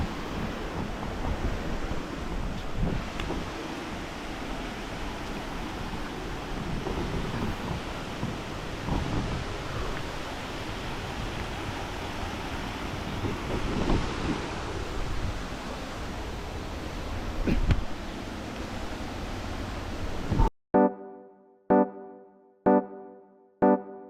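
A waterfall at Mandaramnuwara roars in a loud, steady, close wash of noise for about twenty seconds. It then cuts off abruptly into a few short rhythmic pulses.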